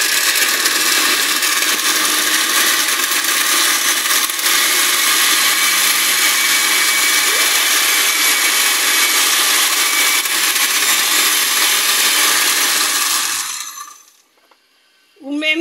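A kitchen blender whirs loudly and continuously with water inside for about fourteen seconds, then winds down and cuts off, leaving near silence and a faint clatter.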